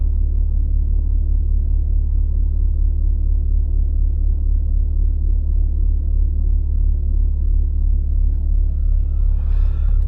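A loud, deep engine rumbles continuously as a Stage 2 tuned 400hp BMW M140i drives, a heavy low drone with no voices heard.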